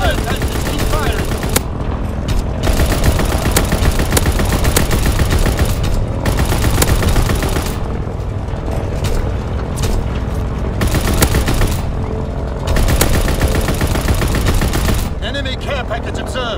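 Rapid turret gunfire from a Call of Duty WWII video game, loud sustained bursts of automatic fire with booming impacts, broken by brief pauses, under shouted in-game voice callouts.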